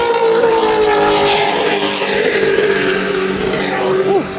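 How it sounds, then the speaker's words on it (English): Racing powerboat engine at the Key West World Championship, bouncing off its rev limiter in a loud, steady roar with pulsing revs and a brief pitch dip near the end. "He's bouncing off the rev limiters"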